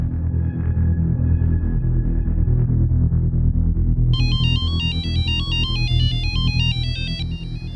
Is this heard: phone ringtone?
yes